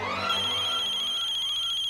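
A phone rings with a high, warbling electronic ringtone at a home in an Indian television drama. The tone is steady and fairly loud, sounding alone.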